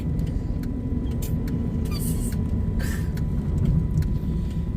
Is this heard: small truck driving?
yes